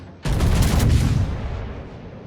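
A naval gun salvo in World of Warships erupts as one heavy, close boom that rolls into a long rumbling tail, fading over about two seconds.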